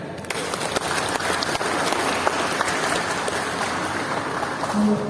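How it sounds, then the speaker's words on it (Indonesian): Audience at an education seminar breaks into steady, full applause, a dense continuous patter of many hands lasting several seconds with no speech over it. "Kita beri tepuk tangan ya."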